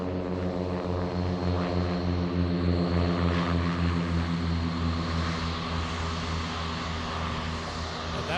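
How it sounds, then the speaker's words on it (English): A loud propeller aircraft takes off from Boeing Field on an intersection departure, its steady droning engine roar and buzzing prop harmonics sustained and close throughout with no talk. "Very loud aircraft."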